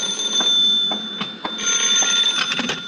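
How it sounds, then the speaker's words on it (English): An old-fashioned telephone bell rings in a radio drama scene, with a steady high-pitched metallic ringing and short repeated pulses across the whole clip. "Answer the phone, will you?"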